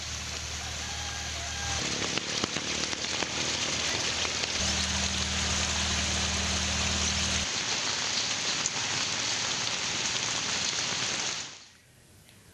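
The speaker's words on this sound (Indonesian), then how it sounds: "Hingga kini hujan deras masih terus mengguyur di sejumlah tempat." Heavy rain pours down in Aceh, Indonesia, during flooding: a loud, steady, dense hiss that holds for about eleven seconds, with a low hum underneath early on, then cuts off abruptly.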